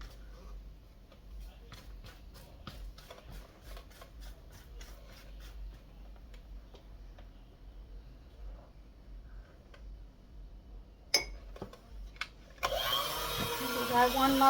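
An electric hand mixer whirs into apple cinnamon bread batter in a bowl, starting loudly near the end after a long quiet stretch of faint ticking and soft clicks.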